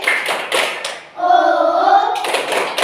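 Young primary-school pupils in a classroom clap out a quick patterned rhythm, several crisp claps before and after a sustained chanted shout from the group.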